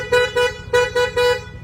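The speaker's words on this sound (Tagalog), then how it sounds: "Pa busina, nilagyan na rin siya ng combo." A Yamaha Aerox scooter's combo horn blasts five short, loud toots in an uneven rhythm, close by, over the low putter of the idling scooter.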